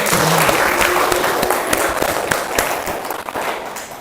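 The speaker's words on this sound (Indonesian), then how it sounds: "Kita tepuk tangan buat April ya" Applause for a student named April in an Indonesian classroom lesson on the novel and its elements, a steady room-filling patter of hands that holds through the whole stretch and slowly eases.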